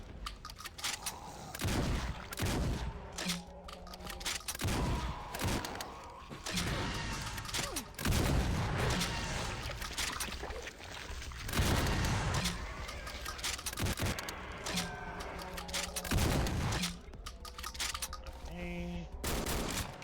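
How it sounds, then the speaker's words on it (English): A double barrel shotgun fires in the video game Resurrection of Dawn 3.0, a series of sharp, loud blasts through a busy stretch of gunfire and mechanical clatter, with quiet talk in places. "The double barrel shotgun. Those guns, okay, so far the guns sound good."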